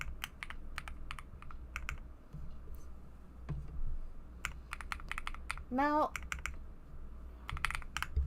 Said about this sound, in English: Enjoy my ASMR of my beautiful keyboard.